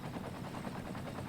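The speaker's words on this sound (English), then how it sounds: "I wonder if there's any more fire helicopters on their way." Fire helicopter in the city-building game Cities: Skylines, a steady rhythmic rotor chop with dense low thrum, continuous and moderately loud with no talk.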